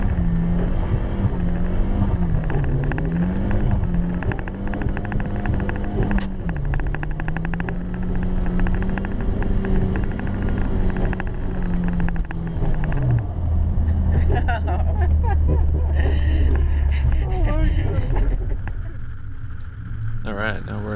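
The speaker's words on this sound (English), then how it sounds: "Alright, now we're in the 89 Volvo 740." A 1989 Volvo 740 with a G80 Eaton locker and 350 horsepower roars loudly as it drives and drifts in snow, its revs swinging up and down before settling into a lower drone, with talking over the engine.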